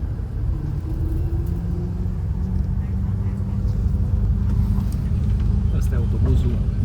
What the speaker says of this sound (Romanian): Asta e autobuzul de noapte.